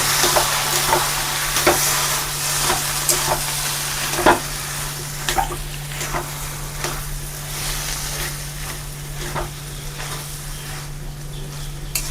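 A potato and pea samosa filling of mashed potato and boiled peas fries in a pan with a steady, gentle sizzle, broken by scattered scraping stirs of a utensil against the pan, heard close with no talk.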